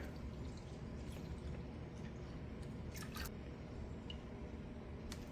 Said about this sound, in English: I'm going to go ahead and strain the water.